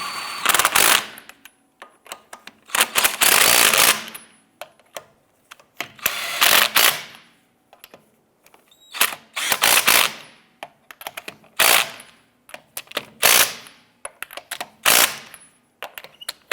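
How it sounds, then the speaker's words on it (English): Impact wrench snugging lug nuts onto a Ford Fiesta rear wheel, heard as a series of loud, close rattling bursts of one to two seconds each, separated by short pauses, with no talking. "We'll get our lug nut started. I'm going to go ahead and snug these down."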